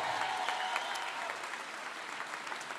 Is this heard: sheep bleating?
no